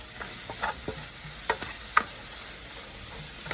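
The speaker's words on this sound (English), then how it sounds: "you hear the sizzling sound down there?" Continuous sizzle of mixed vegetables and cabbage frying in an uncovered pan, with scattered taps and scrapes from a utensil stirring, close by.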